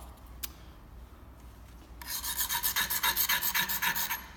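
Steady back-and-forth strokes of a file sharpening the metal blade of a BTB scraper tool used in auto glass work, loud, rhythmic rasping after a quiet start.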